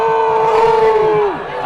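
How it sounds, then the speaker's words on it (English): Home crowd at a high school football game, Cedar at Green Canyon, gives off a loud, sustained roar with a held tonal cheer that slides downward near the end. "You can hear the home crowd."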